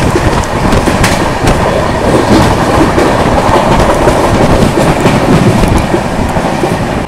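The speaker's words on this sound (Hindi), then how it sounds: "जब ये ट्रेन किसी ट्रेन को ओवरटेक करती है ना, तो 130 के स्पीड से कम नहीं करती है" A Duranto Express between Ahmedabad and Pune runs on the tracks at night, a loud close steady rumble of wheels with clicking rail joints and rushing wind.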